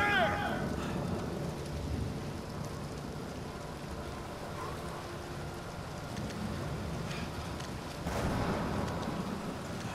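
Rain falling in the video game Uncharted 4, a faint, steady wash of downpour with a soft low rumble throughout, quiet and continuous with no clear voices.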